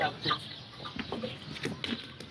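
Chickens cluck and murmur in a noisy farmyard as they are fed, soft overlapping calls with a busy background and faint voices.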